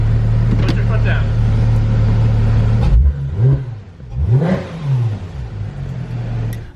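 A Porsche GT3 RS engine holds a steady drone, then revs hard as the car accelerates, its pitch swooping up and down in loud, close bursts with voices faintly underneath.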